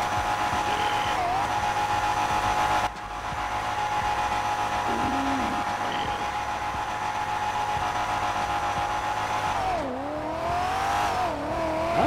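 A car drifting in the GTA 5 video game with the handbrake held: a steady, loud engine drone with pitch swoops as the revs rise and fall, with brief squealing tire tones.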